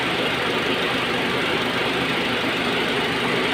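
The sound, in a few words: Honda Jazz engine idling during a misfire check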